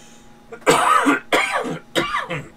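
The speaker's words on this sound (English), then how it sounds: "I need to stop coughing" Three harsh coughs in quick succession, close and loud, each a sharp burst with a brief pause between them.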